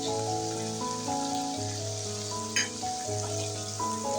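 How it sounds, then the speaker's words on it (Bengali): Ginger garlic paste frying with onions in oil, a continuous close crackling sizzle running steadily throughout, with a single brief clatter partway through and soft background music. "আদা রসুনটাও আমি ভালো করে ভেজে নেব পেঁয়াজের সাথে"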